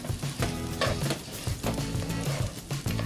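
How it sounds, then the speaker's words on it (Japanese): Sizzling from ingredients being stir-fried for khao man gai, a steady crackling fry with rhythmic scraping and stirring strokes throughout, close and moderately loud. "音を今上げていたんですね。 これぐらいまでは最低やっぱりね炒めていかないと美味しいカオマンガイがねできない。"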